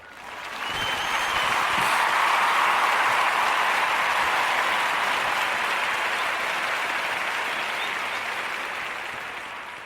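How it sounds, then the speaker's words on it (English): Applause from a crowd honoring 2021 Gwinnett Public Schools graduates, a dense, sustained clapping that swells quickly and holds steady for several seconds before slowly easing. "Round of applause to you guys."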